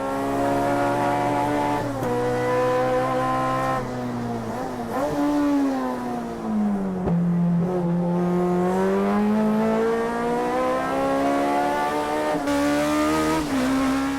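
Toyota AE86 race cars run at Tsukuba circuit. Loud, close engines rev hard and hold high notes, with pitch swings as the drivers shift gears. They roar on steadily for the whole stretch, with no talking.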